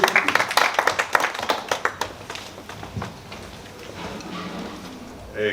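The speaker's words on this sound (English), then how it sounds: "let's give him a round of applause as he comes in" Scattered applause from a small audience at a poultry farming talk, a few distinct claps at first that thin out and fade within a couple of seconds, leaving quiet room noise.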